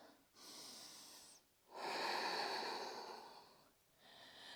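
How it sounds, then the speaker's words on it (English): Slow nasal breathing during a yoga flow, with two long, steady breaths in through the nose separated by short pauses, close and clear with no talking. "Breathing in through the nose. Breathing out through the nose."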